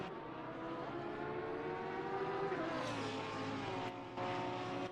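A Porsche race car in a sim racing game at Laguna Seca holds a steady, loud engine drone with shifting pitch and slight revving, under no speech.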